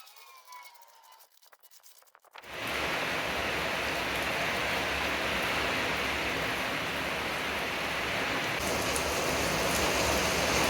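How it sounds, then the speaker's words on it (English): Steady rain pours down on a parked Volvo 240, a dense, even hiss that begins suddenly after a short quiet stretch and holds at a constant level. "Poor Volvo out in the rain."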